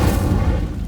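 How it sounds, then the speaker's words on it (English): A fire spell cast in the video game Hogwarts Legacy erupts as a dense, loud burst of low rumbling roar that holds steadily for under a second, with no speech over it. "Incendio!"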